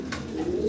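A fancy pigeon gives a brief, soft, low coo, close by and alone over faint background hiss.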